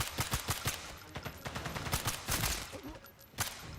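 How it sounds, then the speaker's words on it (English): Rapid gunfire in a multiplayer war video game, dense overlapping bursts and single cracks crackling continuously, fairly loud, with no talk over it. "I'm just getting shot at right now"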